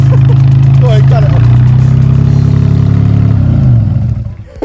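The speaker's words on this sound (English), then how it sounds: "I actually felt the draft from it when you revved it." A car engine with a straight-through exhaust pipe revs loudly and close by, holding a deep, rumbling drone before the revs drop and the engine settles, with people talking over it.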